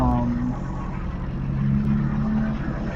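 Engine of a car in a Roblox racing video game, a steady droning hum with sustained low tones that shift pitch partway through, running continuously and fairly loud for the whole stretch.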